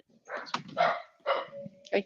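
A small dog barks several times in short bursts, mixed in with someone talking nearby.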